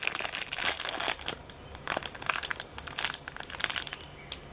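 Plastic packaging around a One Piece Plex Mini Big Head figure crinkling in handling, close bursts of crackly rustling that come and go in irregular waves.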